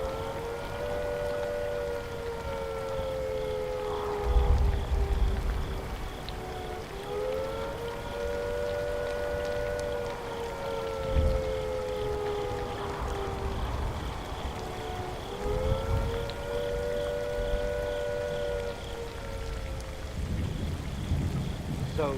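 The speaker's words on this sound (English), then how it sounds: "If attack is imminent, you will hear the attack sound like this." Civil defence air attack warning siren from the game Fallout 4, a long rising and falling wail that cycles repeatedly over about twenty seconds, heard over rain and low rumbling thunder.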